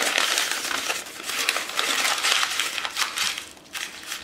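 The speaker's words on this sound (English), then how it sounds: "you're gonna take one piece of paper and you're gonna crumple it up" A single sheet of paper crumpled up by hand, giving a continuous close crackling and crinkling that swells and eases over several seconds, with no talking.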